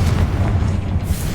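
A Confringo fire spell bursts in Hogwarts Legacy, a loud, dense booming explosion that rumbles steadily through the whole moment with no voices.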